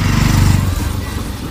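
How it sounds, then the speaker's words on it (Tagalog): A new motorcycle's engine buzzes steadily as it is test ridden, with a loud low drone that eases off slightly after the first half second and then runs on continuously. "Tinesting niya ng tinesting niya yung motor ni Biancy"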